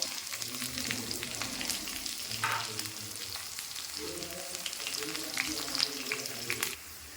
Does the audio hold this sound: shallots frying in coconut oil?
yes